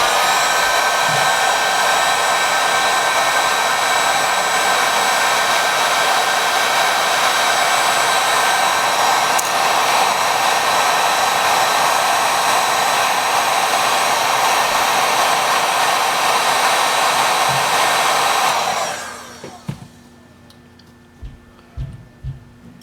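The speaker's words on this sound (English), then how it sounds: "use heat gun as much as you need" A heat gun blows steadily and loudly close by for about nineteen seconds while warming the camera glass on an iPhone X, then cuts off, leaving a few soft clicks and taps.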